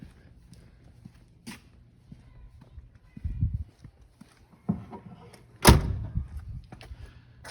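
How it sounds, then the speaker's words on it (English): Car door of a 1965 Pontiac GTO hardtop shutting with one solid, close thump, preceded by a couple of softer knocks from handling, set against quiet background. "Go back to the other door and close it."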